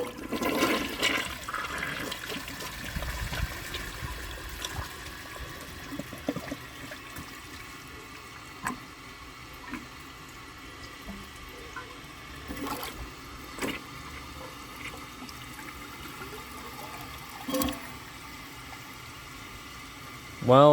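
A 1991 Kohler Wellworth toilet flushes with a dish towel in the bowl: a loud rushing surge at first, then a long gurgling, trickling refill with faint hollow drips and sloshes, close by in a small bathroom.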